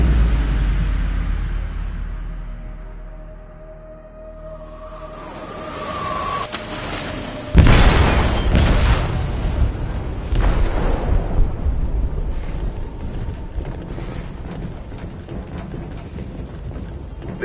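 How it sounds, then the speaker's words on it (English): A deep, heavy explosion bursts aboard a ship in the video game Detroit, coming after a low rumbling build, then leaving a long tail of clattering, creaking debris and mechanical noise. "They detonated an explosive in the hold. The ship is sinking, sir."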